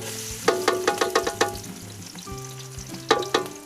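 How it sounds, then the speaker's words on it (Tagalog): Onion, garlic and ginger sautéing in hot oil: a close, steady sizzle punctuated by a run of sharp spatula taps and scrapes against the pan, then a quieter stretch and a couple more clanks. "Lalagyan muna ng mantika at tayo magigisa. Ayan. Isa po tayo ng sibuyas,"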